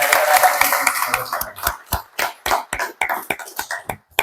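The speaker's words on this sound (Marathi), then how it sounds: "जोरदार आपण टाळ्या" Audience members at a Buddhist story gathering clap, beginning as a murmured blend and then settling into a rhythmic series of distinct, fairly close claps.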